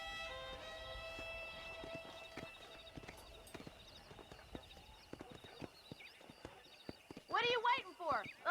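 Wild horses in the Red Dead Redemption video game, with rhythmic hoof clip-clops on the ground growing busier over several seconds, over a quiet musical backdrop, then a loud neighing whinny near the end.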